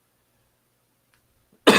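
A single sharp cough from someone with a chest cold lands abruptly at the very end after near silence, close and loud.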